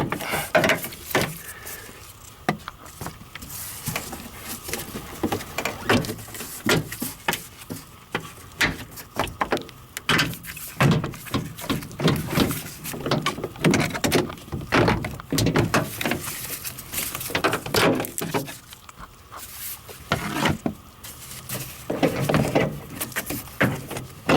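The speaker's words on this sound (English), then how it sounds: "Pop off these panels up here as well." Plastic trim panels on a Honda Odyssey sliding door pried loose by hand, giving a long run of close, irregular clicks, snaps and knocks with scraping in between.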